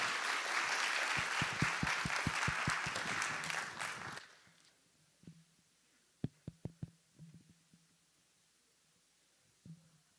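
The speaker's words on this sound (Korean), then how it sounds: "다시 한번 박수로 모시겠습니다." Church congregation applauding at a New Year's Eve worship service, dense clapping for about four seconds that quickly fades, followed by a few scattered individual claps in a quiet room.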